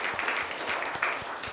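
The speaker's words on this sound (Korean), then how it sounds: "다시 한번 뜨거운 박수 부탁드립니다." Audience applause at a policy forum on long-term care worker support, a steady diffuse wash of clapping from a seated crowd throughout, fairly far and even in level.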